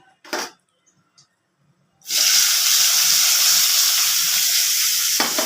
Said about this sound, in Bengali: এই তেলের মধ্যেই আমি পেঁয়াজ কুচিটা দিয়ে দিচ্ছি